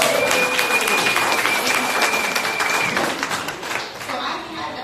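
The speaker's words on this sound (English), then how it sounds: "Can we give yourselves a round of applause?" Crowd applause and cheering at a political rally for a Wisconsin governor's race, loud and sustained across the whole stretch with a whistle and scattered shouts mixed in, tapering slightly near the end.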